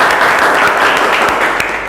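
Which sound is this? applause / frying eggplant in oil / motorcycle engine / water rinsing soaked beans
applause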